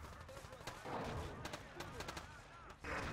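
Grenade blasts and gunfire from a Battlefield 2 conquest match on a beachhead, with dense, overlapping bursts of shots and explosions running throughout, under talk.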